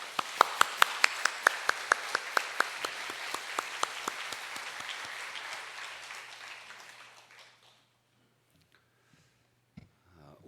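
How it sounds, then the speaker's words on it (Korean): A church congregation claps together in a steady, evenly spaced rhythm, each clap crisp and distinct. The claps carry on for several seconds, then fade into near silence with a faint voice at the end. "여러분 박수로 한번 격려해 주십시오"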